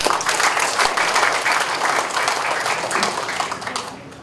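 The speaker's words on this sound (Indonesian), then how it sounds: "Tepuk tangan untuk kita semua." Dense, steady applause from an evening crowd at the soft opening of a rearranged street-vendor area on Jalan Sudirman, many hands clapping loudly and continuously before easing off slightly near the end.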